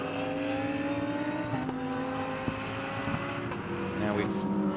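A Top Cats Racing Lamborghini GT car at Snetterton during a GT Cup pit-stop race, its engine droning with gear-change pitch drops as it passes at moderate distance beneath a commentator's continuous talk.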